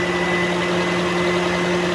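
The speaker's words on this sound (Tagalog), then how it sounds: "Tahimik yung makina, walang vibration." A car engine idles quietly and steadily without vibration after an overheating-related repair, a smooth low hum with a faint whine, close by and alone.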